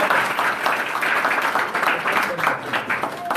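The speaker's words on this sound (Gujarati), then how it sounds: "બળદેવભાઈ હેડુવાને આપણે તાળીઓના ગણગણથી વધાવીએ." A crowd at a village chariot-procession campaign gathering breaks into sustained applause, dense, continuous clapping from many hands that carries on steadily, with some voices mixed in.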